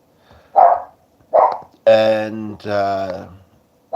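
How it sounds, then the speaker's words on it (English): A dog barks twice in loud, close bursts in the middle of the clip, between stretches of a person talking indoors. "the dog's being distracting, but hopefully he'll hush soon."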